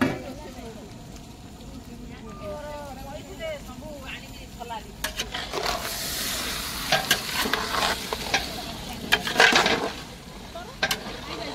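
Mutton stir-fries in a pan at an outdoor village feast, hissing and sizzling with scraping stirs and clinks that grow louder midway, while people talk nearby throughout.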